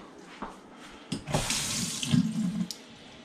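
A kitchen tap briefly run while cooking chicken meatballs in tomato sauce: a few soft clicks and handling knocks, then a short, close gush of water splashing into a vessel for about a second and a half.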